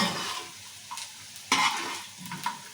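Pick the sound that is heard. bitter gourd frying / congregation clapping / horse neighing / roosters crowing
bitter gourd frying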